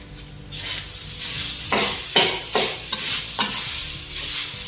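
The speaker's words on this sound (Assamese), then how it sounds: "এতিয়া নাৰিকলখিনি ভাজি লওঁ" Steady sizzling of coconut frying in a pan, with several rhythmic scraping strokes of a spatula stirring through it, close and fairly loud.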